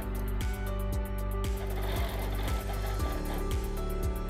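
A sewing machine stitches daisy petals on a quilt, guided by a quilting template, in a steady rapid whirring run punctuated by regular rhythmic thumps of the needle, close and clear with no talk.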